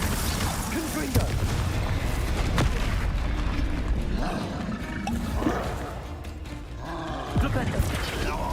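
Confringo fire spell blasts in the Hogwarts Legacy video game, booming bursts and crackling impacts layered over dense combat effects and a game soundtrack, with a voice shouting spell names throughout.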